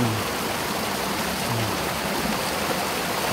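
A small stream flows steadily close by, a constant broadband rushing and burbling with no other sounds.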